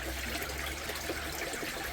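Water splashes continuously into a garden pond, a steady close, fairly quiet trickling wash with no voices.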